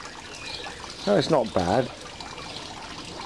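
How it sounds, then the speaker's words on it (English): A soft, steady trickle of a small garden waterfall runs in the background while a person speaks briefly over it. "Got a nice little waterfall."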